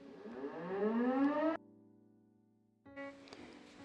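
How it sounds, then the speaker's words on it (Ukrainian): A civil defense air raid siren rising steeply in pitch, then cutting off abruptly into a low lingering hum before sounding again, distant and fairly faint. "Тут е, також буває, включаю сирену, то вибачаюся за посторонні звуки"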